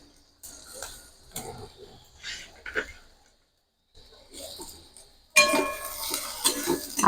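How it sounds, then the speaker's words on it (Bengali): Potato, onion and chilli fry in a pan for a spicy semolina dish, with scattered clinks and scrapes of stirring before a loud, steady sizzle takes over for the last couple of seconds. "আলু, পেঁয়াজ, লঙ্কা খুব ভালো করে ভেজে নেব।"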